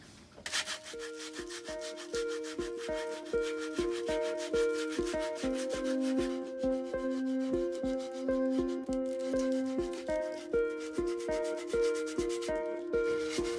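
Steady, rhythmic back-and-forth sanding strokes on a hard teak board, close and even-paced, with music playing underneath throughout.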